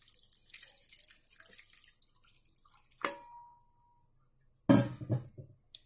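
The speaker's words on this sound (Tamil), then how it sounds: "இப்போ நம்ம முதல் தேங்காய் பால் ஊற்றலாம்." Coconut milk pours into a pot of kari nonbu kanji, a Ramadan rice porridge, giving a brief splashing pour and a few soft drips against a quiet kitchen.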